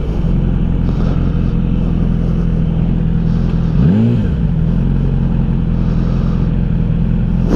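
A motorcycle engine runs at a steady drone while lane splitting between cars in traffic, with a brief swelling whoosh partway through as it passes a vehicle, loud and close throughout.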